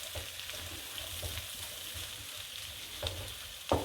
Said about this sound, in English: I'm just going to braise these for a little bit